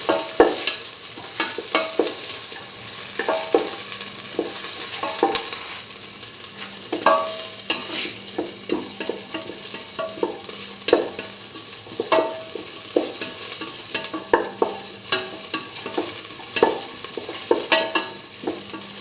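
Curried lentils sauté in a hot pan, sizzling steadily while a utensil stirs and scrapes against the pan in frequent, irregular strokes, close up with no talking.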